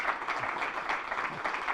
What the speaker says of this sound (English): Join me in a round of applause for Dr.